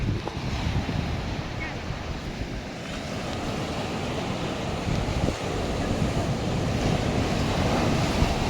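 Sea surf and wind on the Diu coast, a constant loud wash of waves with heavy wind rumbling against the microphone the whole time, and no talk heard.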